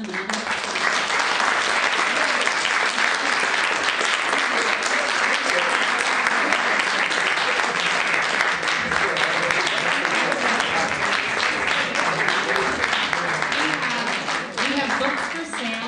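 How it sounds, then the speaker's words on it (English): Full, sustained applause from a library audience after a book talk, dense clapping holding steady throughout with crowd voices mixed in. "Let's give them a round of applause."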